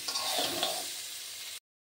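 Cauliflower and potato pieces fry in oil in a kadai over a medium flame while being stirred, giving a steady close hiss with a few scraping stir strokes, cut off after about a second and a half.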